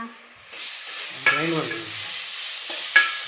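Tomatoes frying in a pan for a gravy, a steady close hiss of sizzling with a couple of sharp scraping stirs from a utensil against the pan.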